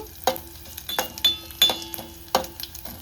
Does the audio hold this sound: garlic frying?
yes